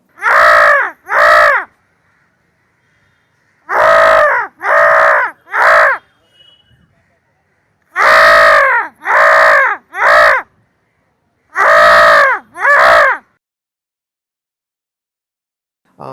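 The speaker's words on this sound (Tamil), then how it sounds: "நம்ம போயிட்டு மொட்டை மாடியில் போயிட்டு காக்காவை கூப்பிட்டு பார்க்கலாம் வருதான்னு" Crows caw loudly and nearby from a rooftop terrace, sounding in repeated clusters of two to three harsh calls with silent gaps between them.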